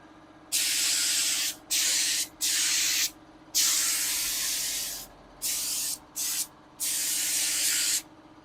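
Spray gun fed by an air compressor gives repeated loud hissing bursts of varying length, with short pauses between them, over a low steady compressor hum and no talk.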